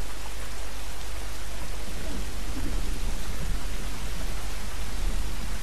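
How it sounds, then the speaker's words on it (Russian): Steady heavy rain pours down with a deep rumbling thunder bed in The Last of Us Remastered, a constant close wash of storm noise with no pauses. "Опять молния. Сюда, скорей. Гром, точнее."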